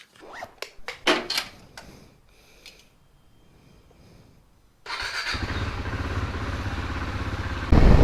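KTM Duke 390 motorcycle engine running steadily and close, starting abruptly after a quiet stretch with scattered handling noises, then holding a loud, even drone to the end.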